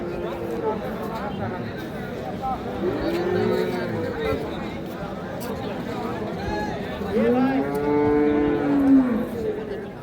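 Cows moo at a busy rural cattle market where cows with calves are sold, several drawn-out lowing calls rising and falling close by, the loudest near the end, over a steady background of crowd chatter and voices.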